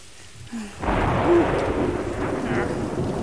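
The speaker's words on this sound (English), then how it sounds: "I could really be afraid of these thunder and lightning storms, Bert." Thunder rolls in loudly after a brief quiet moment, a long deep rumble with rain-like hiss, and a short tonal squeak near the start.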